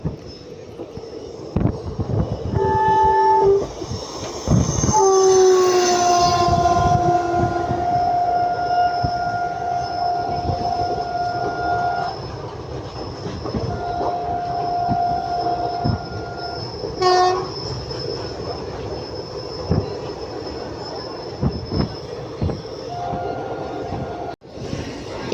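A train, the Kakinada Town–Mysuru special, runs round a long railway curve of nearly 180 degrees. Wheels rumble and clatter steadily, there are several loud horn blasts, and high wheel squeals rise and fall along the curve.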